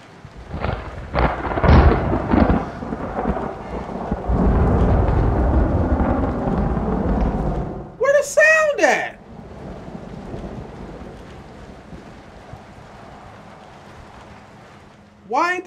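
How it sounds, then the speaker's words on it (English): Rain and thunder in the video game Red Dead Redemption: steady rainfall with a deep rumbling roll of thunder and a few sharp cracks early on, then a quieter wash of rain, briefly interrupted by a voice. "I hear the background rain and everything"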